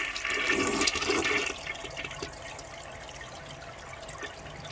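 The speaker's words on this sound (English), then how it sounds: "give it a good amount of toilet paper, drop it in," A toilet loaded with toilet paper flushes with a loud rushing gush for about a second and a half, then drains into a quieter trickle and gurgle.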